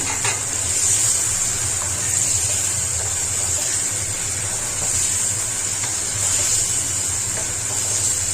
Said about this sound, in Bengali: মশলার সঙ্গে এখন মাংস আর আলুগুলো দিয়ে দিব, যাতে এগুলো খুব সুন্দরভাবে কষে যায়।